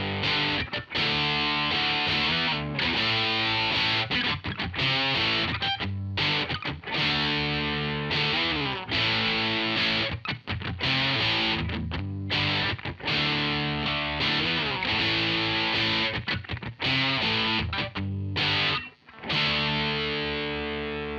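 Electric guitar with a JB bridge pickup played through an MXR M69 Prime distortion pedal set about a quarter of the way up, a continuous loud, thick, sustained distorted riff with chords and ringing notes, briefly dropping out near the end.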